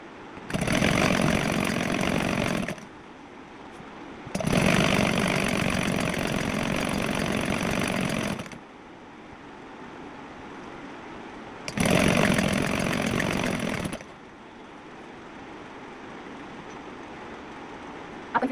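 Sewing machine running in long bursts of steady whirring while stitching a sleeve onto a suit, loud and close, stopping and starting three times with quiet gaps between runs.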